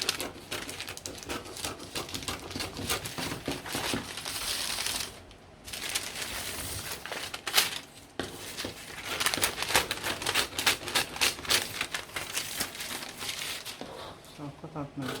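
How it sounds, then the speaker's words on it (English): Scissors cutting out dress panel fabric, a dense run of close snipping and rustling cloth with brief pauses, continuing loud and busy throughout. "So I'll just go ahead and cut this out."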